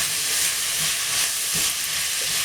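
Grated carrot and celery are stirred into a hot pan for bolognese sauce, giving a steady, close, continuous sizzle and scraping with no speech.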